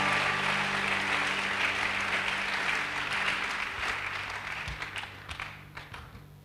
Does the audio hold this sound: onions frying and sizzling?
no